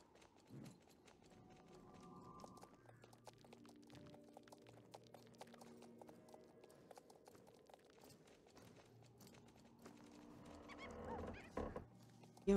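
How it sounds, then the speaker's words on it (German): A horse in the Star Stable video game, with hoof clip-clops and a whinny over soft game music. "Hallo, Pferd."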